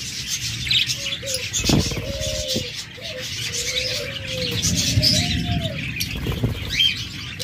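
Caged pet budgerigars, cockatiels, doves and lovebirds at a bird seller fill the air with repeated dove cooing phrases over busy chirps, tweets and a brief burst of wing flapping, close and lively.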